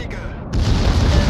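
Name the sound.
battleship destroyed explosion in World of Warships video game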